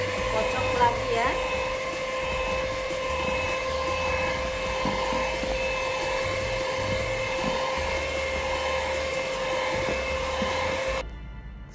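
Electric hand mixer beating chocolate lapis legit cake batter, a steady close whirring hum that runs unbroken and stops abruptly near the end.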